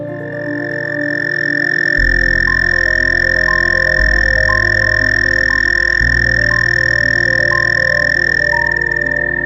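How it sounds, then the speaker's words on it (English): Male toad calling in a small backyard pond in early spring, a loud, continuous, close-up trill that holds steady for the whole stretch without pause. "The toad's chirping meant he was looking for a girlfriend, another toad to mate with."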